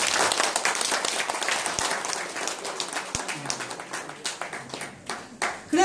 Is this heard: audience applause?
yes